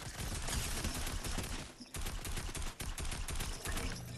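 Gunfire fills a shooting video game match: dense, loud automatic bursts roll on almost without a break, with one short gap near the middle.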